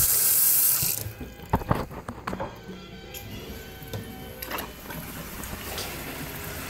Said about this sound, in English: Run some water pressure here.